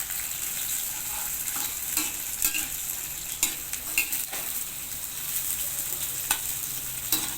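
Whole spices (star anise, biryani leaf and cardamom) frying in hot oil in a pan for biryani rice, a bright steady sizzle with repeated spoon scrapes and light clinks, close and fairly loud, no one speaking.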